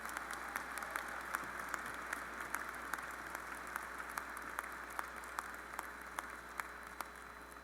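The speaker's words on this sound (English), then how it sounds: "Let's have a round of applause for all the students hooded in the College of Liberal Arts and Sciences." Steady applause from an audience at a 2017 university graduate student recognition ceremony honoring newly hooded graduates: a sustained wash of many hands clapping, with individual sharp claps standing out regularly throughout.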